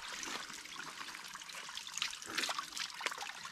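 Clear spring water trickles on a high mountain in Siruma, a steady close hissing splash with small irregular gurgles and no voices over it.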